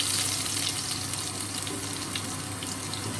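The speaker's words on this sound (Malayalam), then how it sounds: "എണ്ണ ചൂടാകുമ്പോൾ 1/2 ടീസ്പൂൺ കടുകിട്ട് പൊട്ടിക്കാം" Mustard seeds spluttering in hot coconut oil: a dense, steady crackling sizzle close up, loud and continuous for a few seconds with no talk.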